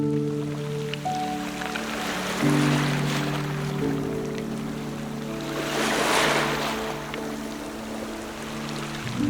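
Sea waves roll in at Shivaji Park beach in Mumbai as a soft, continuous wash, with surges swelling at moments, low hums in the background and no voices.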